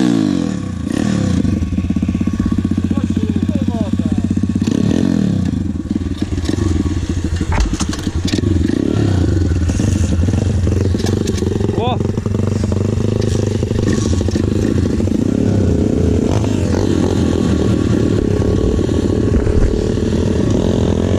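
An MRF motorcycle engine, now burning oil like a two-stroke, fires up and keeps running loud and close, a rough steady idle with clattering and occasional revs throughout.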